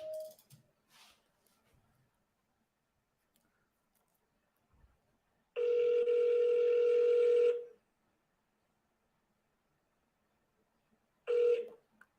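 A telephone dial tone plays while a call is placed: a short tone burst, a few faint clicks, then a steady two-second tone and another brief tone near the end, loud and clear over near silence.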